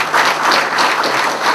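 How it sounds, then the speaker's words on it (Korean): A crowd applauds at an inauguration ceremony for a committee chairman in Busan's Gijang district, with loud, dense, continuous clapping filling the hall for a brief burst. "큰 박수로 축하해 주시기 바랍니다."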